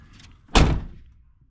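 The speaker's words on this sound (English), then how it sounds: "so you can hear the door actually close and how solid it is" A car door on a 1986 4-eyed Fox-body car shuts with one solid, heavy thunk, close up, followed by a short fading resonance.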